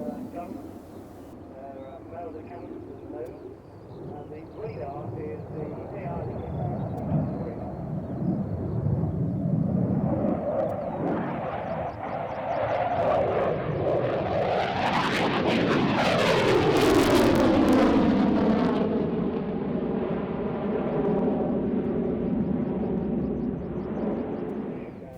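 Jet engines of the Aerostars display team aircraft spool up at an airfield airshow, a low rumble building into a loud rising whine that peaks and holds at a sustained roar, with radio-style voices over it.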